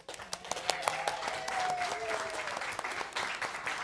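An audience at a school board meeting bursts into sustained applause, many hands clapping densely for several seconds, with a few faint voices mixed into the crowd noise.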